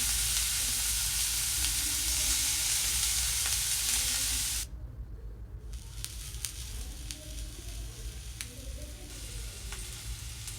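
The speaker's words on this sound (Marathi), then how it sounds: "अशा प्रकारे आपल्याला कांदा सतत हलवत भाजून घ्यायचा आहे गुलाबी रंग येईपर्यंत." Onion roasting in a pan while being stirred continuously, heard as a loud, steady sizzle that drops briefly, then returns slightly quieter with scattered scraping strokes.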